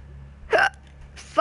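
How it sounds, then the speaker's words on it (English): Hiccups from a woman gaming at home: two abrupt, loud, close vocal jolts about a second apart, each short and sharp against a low background hum. "Fucking hiccups."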